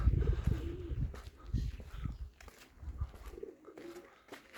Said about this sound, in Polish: Dzisiaj gołąbeczki, niedziela.